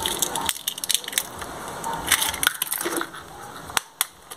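Crunching and crackling from eggs being cracked into homemade cake batter, irregular close taps and crisp shell breaks in quick succession with sharp clicks near the end.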